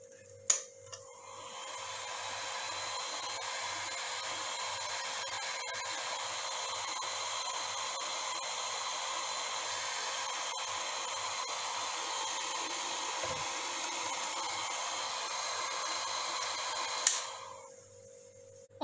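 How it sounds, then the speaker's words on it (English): Hair dryer drying a blood smear on a slide, switched on with a click, then a steady, even whirring blow for about fifteen seconds before clicking off. "you can use hair dryer to dry"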